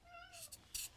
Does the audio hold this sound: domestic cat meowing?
yes